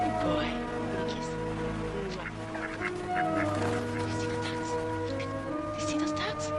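Ducks honk and quack faintly outdoors beneath steady talking, with light background noise like rain throughout.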